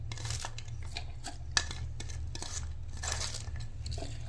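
Cabbage chopped in a hand vegetable chopper for an omelette: a steady run of quick crisp clattering chops and plastic clicks, close and moderately loud over a low kitchen hum.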